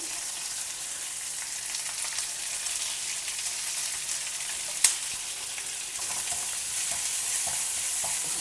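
Ginger, green chilies, curry leaves and sliced onion sauté in a pan for dosa filling, giving a continuous bright sizzle with one sharp utensil clink midway and faint stirring scrapes later, close and without voices.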